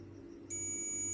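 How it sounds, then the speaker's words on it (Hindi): A multimeter beeps during a continuity test on the yellow starter wire of a TVS XL 100 BS6 ISG starter system. After a low background hum, a steady high-pitched tone comes in halfway through and holds to the end. "देख सकते हैं येलो वाले में बीप का साउंड आ रहा है"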